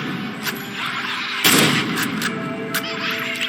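Gunshots from a weapon in the video game Insomnia: several sharp bursts over a continuous game soundscape, with one especially loud, close shot in the middle.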